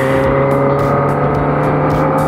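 Kawasaki ZX25R motorcycle engine pulling hard under acceleration, a loud steady high-pitched whine sustained throughout with rhythmic wind buffeting, heard from the rider's position.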